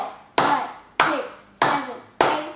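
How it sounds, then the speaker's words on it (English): A birthday party group claps in unison, each clap sharp and close with a short ringing tail, spaced evenly about every 0.6 seconds; four claps are heard here with no talking. "8 claps and 1 for good luck."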